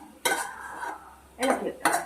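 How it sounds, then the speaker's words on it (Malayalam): Cheera leaves stirred in a cooking pan, with three distinct scraping strokes of a ladle against metal, close and fairly loud, separated by brief quiet pauses. "അപ്പോൾ നമുക്ക് ഒന്നും കൂടി ഇതൊന്ന് തുറന്ന് നല്ലതായിട്ടൊന്ന് ഇളക്കി അടിഭാഗം കരിയാത്ത രീതിയിൽ"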